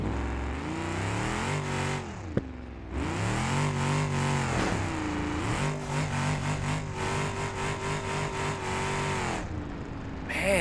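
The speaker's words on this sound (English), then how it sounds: "Man, it's just bouncing off the rev limiter." A car engine in BeamNG.Drive sounds loud and close as it revs hard and bounces off the rev limiter, giving a rapid stuttering buzz. There is a brief cut near two seconds, and then the engine revs hard again. No one speaks.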